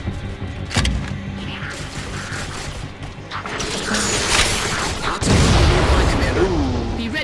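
Booming blasts and mechanical clanks of Halo 4 gunfight play over dense game noise, with a loud surge of explosive rumble near the end.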